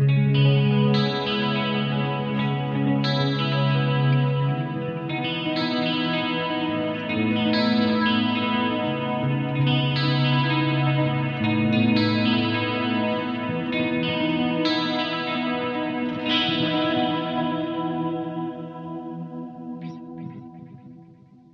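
Electric guitar played through a GH Systems pedalboard with chorus, plus reverb and delay, ringing out sustained shimmering chords for about twenty seconds before fading, loud and alone.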